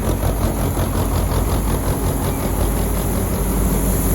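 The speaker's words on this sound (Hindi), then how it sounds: "गेहूँ जवार मूंग चना सब निकाला भाई यहाँ कंबाइन मशीन जो बैक टू बैक है।" A back-to-back combine harvester's engine runs steadily and loudly up close at a wheat and grain harvest, with a dense, continuous mechanical drone and rattle and no talking.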